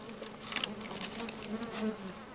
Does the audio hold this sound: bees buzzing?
yes